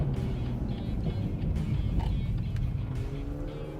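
Several sports cars sweep past one after another on a winding mountain road, including a Porsche Boxster Spyder, their engines droning loud and steady with brief tire squeal.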